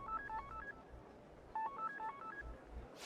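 A phone in the video game Persona 5 Royal rings with two short bursts of quick electronic beeping tones, quiet and clear, separated by a brief pause.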